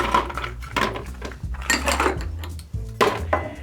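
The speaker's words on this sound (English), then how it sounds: "Grab some ice." Ice being scooped for a spicy pomegranate margarita, bursts of clattering and clinking cubes against metal and glass, several close scoops in an uneven rhythm with no voice.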